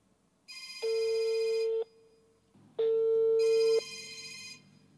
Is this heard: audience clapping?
no